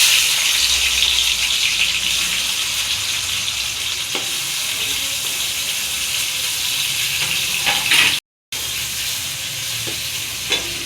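Chopped onions sizzling in hot oil with cumin and mustard seeds, a steady loud hiss with occasional stirring clicks and a brief dropout near the end.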